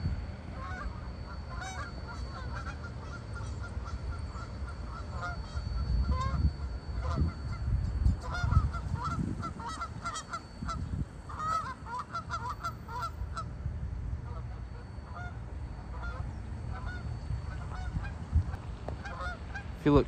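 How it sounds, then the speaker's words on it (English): Geese honk repeatedly outdoors in a natural setting, some calls close and others farther off, over a low rumbling background for about twenty seconds. "There's some geese."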